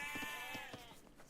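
Sheep in the strategy game Age of Empires II give a single wavering bleat, clear and fairly close over faint background game ambience.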